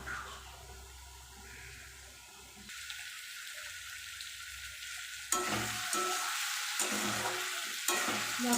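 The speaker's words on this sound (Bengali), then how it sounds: "টমেটো আলু পেঁয়াজ সব একসাথে ভালো করে ভেজে নেব" Tomatoes, potatoes and onions sizzle and crackle in hot oil, the frying hiss swelling louder partway through, with no voices.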